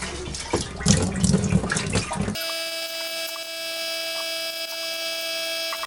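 Water splashes and gushes briefly as it drains out of a hole drilled in a fuel tank, then cuts off abruptly, leaving a steady electrical hum.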